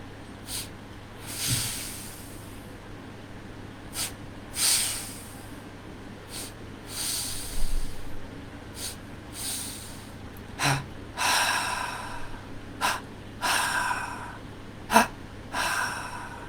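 Double breathing exercise during a meditation practice: a series of audible inhales and exhales, first sharp sniffs through the nose, then hissing breaths through the mouth, repeated in an even rhythm up close.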